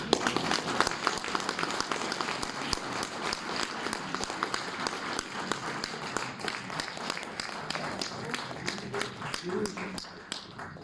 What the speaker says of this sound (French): applaudissements de la salle